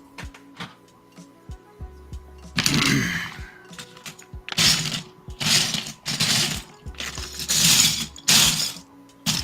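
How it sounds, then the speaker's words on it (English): Loose LEGO plates rattle and clatter inside a built model, coming in several bursts of shaking clatter with brief gaps and scattered small clicks between them. "all the plates came off. They're just rattling around in there."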